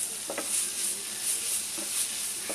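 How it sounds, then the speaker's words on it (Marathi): Maggi sandwich filling with Schezwan chutney being sautéed in a pan, a steady soft sizzle with a few quick stirring scrapes of a spatula, close and moderately quiet. "हे जरा आपण परतून घेणार आहोत।"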